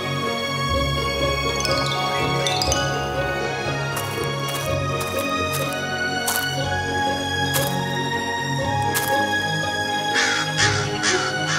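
A crow caws a few times, fairly clear over a dense, steady bed of music and background sound in an animated Indonesian fairy tale about a porcelain princess.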